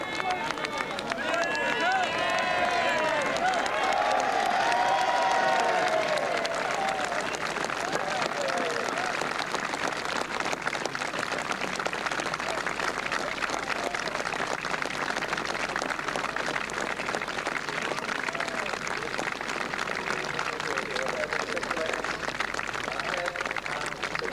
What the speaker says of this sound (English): Let's hear the applause.